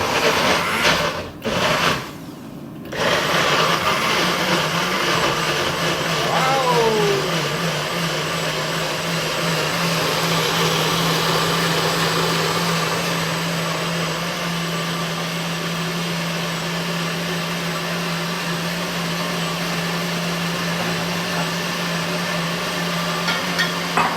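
A Nutri-Bullet blender whirs steadily and loudly for the whole stretch, a close appliance hum with a few brief clatters near the start and no talking.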